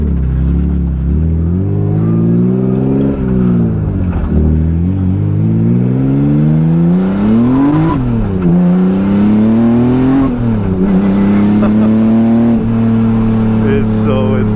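A turbocharged BMW E36 revs hard during a street test, its engine note climbing and dipping repeatedly in loud, close swells of throttle before settling into a sustained higher drone.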